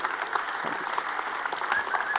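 Audience applause after a startup pitch at a live tech event, dense and steady clapping filling the whole stretch with no talk over it.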